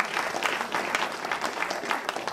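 An audience in a hall at a student performing-arts competition final applauds, a thick run of individual claps close and lively, holding steady throughout without speech.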